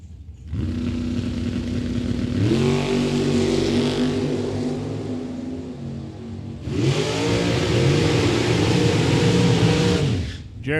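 Drag race cars at Mid Michigan Motorplex rev loudly and roar through a burnout, with two long surging engine bursts and a lower idle between them, near and without voices.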